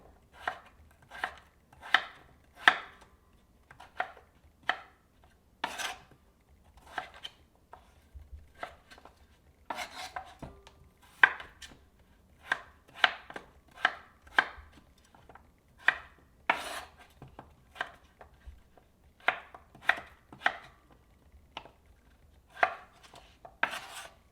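Potatoes being cut for curry chana, a knife chopping through aloo onto a board in a long series of crisp, close, evenly spaced strokes with short pauses between runs.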